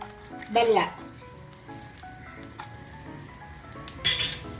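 Garlic for a chutney fries in a pan with a soft, steady sizzle, punctuated by clinks of a utensil against the pan and short stirring bursts, under background music and occasional talk.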